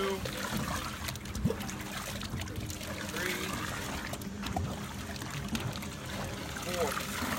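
Lake water trickling steadily through a filter during a swimmer's itch sampling demonstration, a continuous soft dribble under a man counting aloud.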